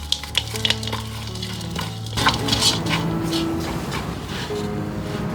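Fried chicken in fish sauce being plated, with close clinks and scrapes of dishes and cutlery over a steady background sizzle, a few sharp knocks at the start and busier clatter later.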